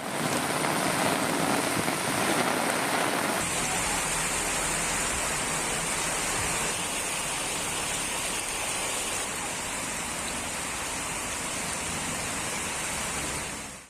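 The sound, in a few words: heavy rain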